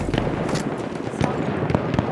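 Explosions in the video game Battlefield 1, several sharp blasts and cracks spaced irregularly amid ongoing battle noise, moderately loud.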